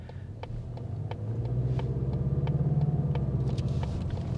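A 2021 Mazda 3 turbo hatchback engine drones steadily from inside the cabin while driving, a low rumble that swells louder after the first second and holds, with faint ticks and road noise above it.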